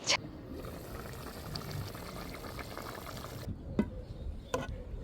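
Beef mechado simmering in water inside a covered pot, giving a steady low bubbling wash throughout with a couple of faint lid or utensil clicks near the end.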